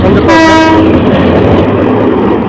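The Titas Commuter train pulls out of Bhairab Bazar junction in Bangladesh, a loud horn blast sounding briefly near the start over the continuous close rumble and clatter of the moving train.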